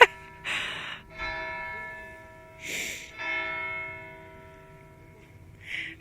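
Church bells toll in slow succession, each strike leaving a long decaying hum, heard at a distance with brief faint breaths or noises between strikes.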